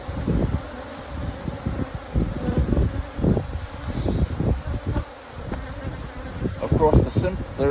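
Honeybees swarm around an opened hive during a frame inspection, a loud, close, dense buzzing with individual bees droning past, steady throughout.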